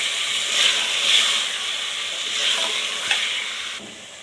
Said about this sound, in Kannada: ಚಿಕನ್ ಹಾಕ್ಕೊಂಡು ಹಂಗೆ ಸ್ವಲ್ಪ ತಿರುಗಿಸ್ಕೊಡಿ